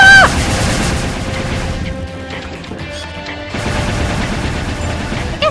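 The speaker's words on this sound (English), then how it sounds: "60 millimeter cannon, zigzag progression." Rapid 60 millimeter cannon fire in the Beyond Good & Evil final boss battle, a loud opening crash followed by a dense stream of bursts and impacts that eases midway, then swells again.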